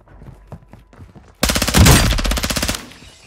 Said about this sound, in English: I should keep shooting.